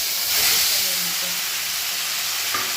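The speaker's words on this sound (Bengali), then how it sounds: "সেদ্ধ করা কচুর শাক আর ছোলা দিয়ে দিলাম" Boiled taro greens and chickpeas hitting hot oil with whole cumin, bay leaf and fenugreek, giving a broad steady sizzling hiss that swells early and then holds evenly.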